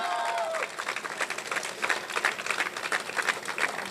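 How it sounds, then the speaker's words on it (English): Audience applause at a road safety awareness event held by oral and maxillofacial surgeons, a dense wash of clapping that starts after a brief voice and continues evenly, moderately loud. "Can we have a round of applause for the Karavali chapter?"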